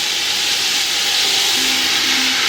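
Yogurt hits fried biryani masala in a hot pot, giving a loud, steady, broad sizzling hiss that runs without pause and with no talking.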